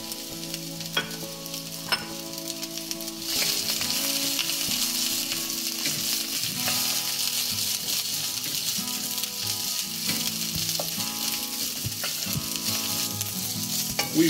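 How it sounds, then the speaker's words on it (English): Cabbage sizzles and crackles steadily in a hot pan as it is stir-fried, a loud continuous frying hiss with occasional scraping and clinks, no talking. "Next we'll add the cabbage and then the carrots."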